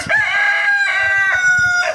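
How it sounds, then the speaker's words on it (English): A barred rock rooster crows loudly and close by in a chicken yard, a long drawn-out call followed by a second crow, with low clucking and farmyard noise underneath. "You could hear the rooster"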